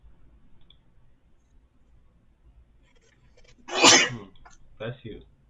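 One loud, sharp sneeze bursts close to the microphone after a quiet stretch of faint clicking, and a smaller breathy sound follows it.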